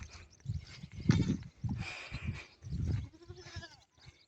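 Goats bleat several times in a row, fairly close, with shuffling and movement noises between the calls.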